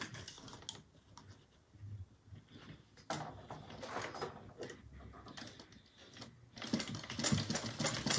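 A sewing machine stitches a zipper into a fabric satchel, running in short uneven bursts that get busier and louder toward the end, with no one speaking.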